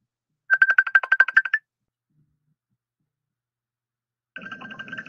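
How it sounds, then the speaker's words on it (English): An incoming call sets off a phone ringtone, a quick burst of about ten rapid repeated beeps, then silence, then a second ring pattern starting near the end, clear and close. "Oh, great. We're getting a call."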